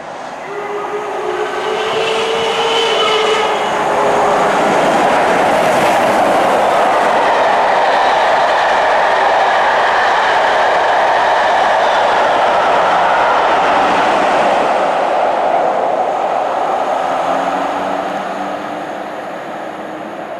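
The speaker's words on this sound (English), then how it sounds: "the Royal Scot flying through here" The Royal Scot steam locomotive thunders through a station at speed, a loud, sustained roar of wheels and rolling stock that swells and stays close for most of the pass before easing away.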